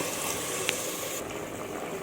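Steady running water poured into a pressure cooker pot to cover snake gourd pieces, with a continuous hiss and a brief clink partway through.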